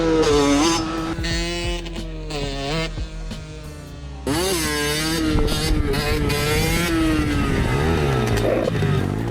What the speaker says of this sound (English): it's just really fun to ride a tuned moped like this in general